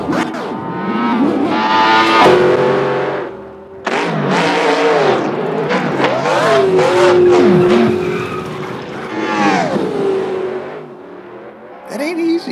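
A red Ford Mustang on the Nardo track, its engine revving up and down in loud sweeping pitches with tire squeal and skidding, close and dominant throughout.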